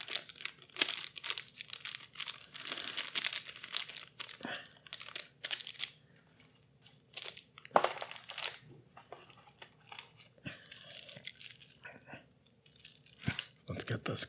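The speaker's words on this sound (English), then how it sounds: "Let's get this card pack opened up." A plastic wrapper crinkles and tears in sharp, uneven bursts as a game card pack is opened close by, with quieter pauses between the rustles.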